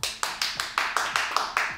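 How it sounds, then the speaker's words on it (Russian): Applause at a parents' question session with Martin Schlettgauer. The clapping comes as a steady, evenly spaced run of close, sharp claps, brief and fairly loud. "Давайте аплодисменты"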